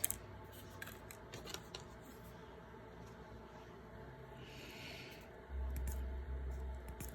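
An X-Acto craft knife with a freshly changed blade cutting, heard as faint, sparse scratchy strokes in a quiet room, with a low rumble rising near the end.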